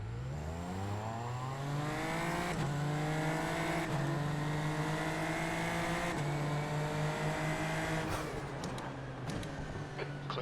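Super Formula Lights race cars roar off a standing start at Brazil in a racing video game, one engine revving hard and climbing steadily through gear changes, with rivals' engines droning close behind throughout.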